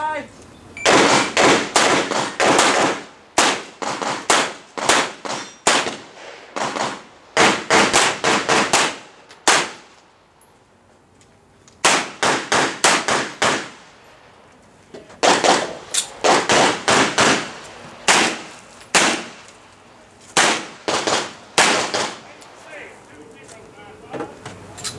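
Gunshots at an outdoor shooting range, fired in rapid loud strings of sharp cracks with brief pauses between bursts, close and dominant throughout.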